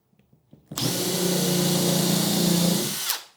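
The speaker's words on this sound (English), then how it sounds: "And then you countersink." A power drill with a countersink bit whirs loudly and steadily for a few seconds, countersinking a hole in wood, starting abruptly after faint clicks and then spinning down, close by.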